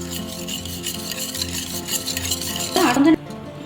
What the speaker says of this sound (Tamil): இந்த பால் சேர்த்து நம்ம நல்லா கலக்கிக்கணும்.